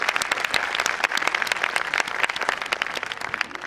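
An audience at the valedictory function of an academic conference breaks into dense, continuous applause, many hands clapping close and steady throughout, with no voices.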